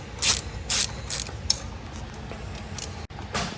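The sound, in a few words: ratchet unbolting BMW 335i oil cooler bolt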